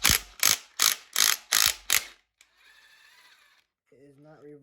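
Six quick bursts of ratchet clicking as a wrench turns a size 24 socket on a 5.3 LS engine, close and crisp, followed by a brief faint whir and a short tonal sound.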